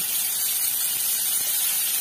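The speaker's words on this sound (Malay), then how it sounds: "dah bergasap kita punya kuali ni, pan ni. Jadi kita tumis ya." Hot sizzling and hissing as spice paste sautés in a smoking-hot pan, a steady bright crackle with no talking.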